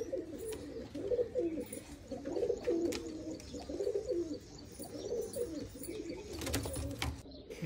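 Teddy pigeons coo loudly and close, with repeated rolling throaty phrases in a steady rhythm, joined by a few sharp clicks and a brief flurry of rustling near the end.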